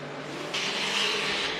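A Formula Drift car at Atlanta exits the horseshoe, its engine droning steadily and then swelling louder with a bright rasping, tire-squealing edge as it slides past at a moderate distance.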